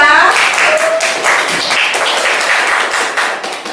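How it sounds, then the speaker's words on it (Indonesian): Students in a classroom clap for a group of classmates who have just presented, a dense, steady patter of many hands close by that fades slightly toward the end. "Tepuk tangan untuk kelompok 2."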